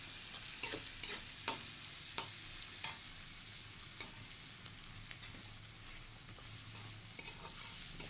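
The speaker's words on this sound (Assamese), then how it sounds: "ধনিয়া পাউডাৰ দিছোঁ, গোটেইখিনি মিক্স কৰি ভাজি ল'ম।" Coriander and chili powder spices fry in oil in a pan for a crab curry and get stirred. A steady close sizzle runs throughout, with sharp scraping ticks from the stirring spoon at irregular intervals.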